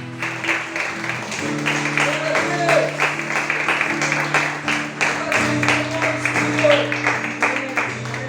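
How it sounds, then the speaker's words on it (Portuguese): A church congregation at a Portuguese-language service claps, a steady wash of hands over held organ or keyboard chords, with voices calling out now and then. "Você pode aplaudir ao Senhor mais uma vez."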